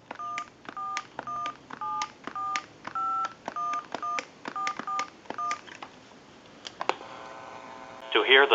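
A rapid series of short, clear telephone keypad dialing tones from a Western Electric Trimline telephone, evenly paced, followed by a brief burst of higher ringing tones at the end.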